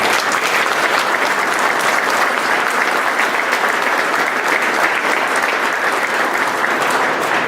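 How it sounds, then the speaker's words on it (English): Sustained, dense applause from an audience at a press conference in Greater Moncton, New Brunswick, a steady wash of clapping throughout with no pauses. "please give them all a round of applause"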